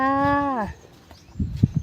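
A water buffalo gives one long, loud, sustained moo with rich tonal harmonics that slides down in pitch, followed by soft scuffing and a few low thumps nearby.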